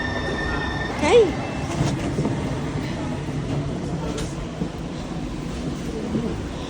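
Interior of a Link Light Rail train in motion: a steady rumbling roll with rail noise and a brief wheel squeal near the start, while a person speaks a short word over it.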